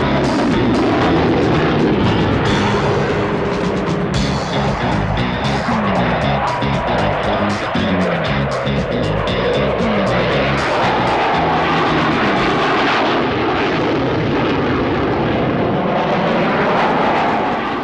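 A supersonic jet fighter capable of over Mach 2.5 roars past at the Farnborough International air show, a loud, sustained engine blast that swells and rolls on without a break for the whole stretch, with faint crowd noise beneath.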